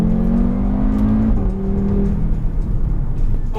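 Audi RS3 engine accelerating hard, a steady loud drone with a rising tone that shifts as the turbo builds pressure, heard close and continuous.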